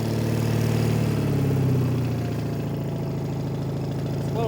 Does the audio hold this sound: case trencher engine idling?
yes